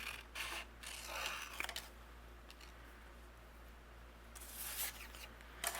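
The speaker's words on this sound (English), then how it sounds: "take some scissors, and I'm going to create some snowbanks on the very bottom" Scissors snip paper into snowbank shapes for a stamped card, giving faint, close, intermittent crisp cuts in short bursts over a quiet background.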